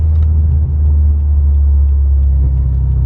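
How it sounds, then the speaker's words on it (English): A car engine rumbles steadily from inside the cabin while driving, its low drone loud and constant. The motor is not yet tuned and shakes the whole car. No one speaks. "you feel all the vibrations of the motor and all that. Like, the whole car shakes with it"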